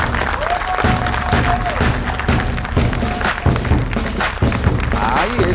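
Audience applause at a children's show, dense continuous clapping with thumps and crowd noise, mixed with voices and a sustained tone running underneath.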